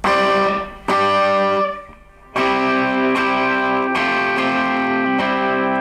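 Effected electric guitar plays an intro riff, strummed ringing chords in a steady pattern, with a brief dip in volume early on.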